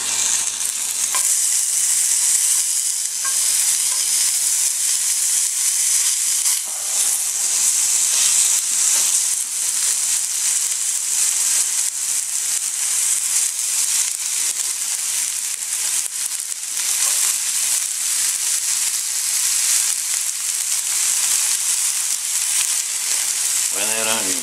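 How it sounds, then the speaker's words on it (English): Onion sizzling and frying in a hot pan over an outdoor cold-weather cooking setup, a steady dense crackling hiss that runs continuously at close range, with occasional stirring scrapes and no talk. "she's hot enough now to put some onion in there"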